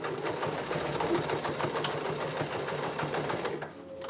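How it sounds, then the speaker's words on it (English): A Kenmore sewing machine runs steadily at full speed, with a rapid, even mechanical whir and clatter that stays up close and moderately loud before easing off at the end. "my sewing machine is probably at its max right now"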